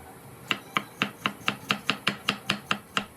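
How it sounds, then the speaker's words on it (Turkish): A knife chops tomato steadily on a cutting board, about a dozen even, crisp strokes in a regular rhythm, close and clear with no talking. "şöyle ince ince yemeklik olacak şekilde doğrayıp hazırlıyorum"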